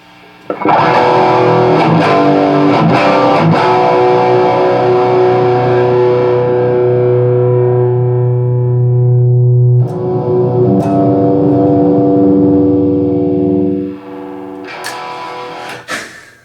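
Loud, heavily distorted electric guitar chords ringing out through a Bugera 333XL amp, sustained and buzzing, then cutting off and restarting before fading near the end.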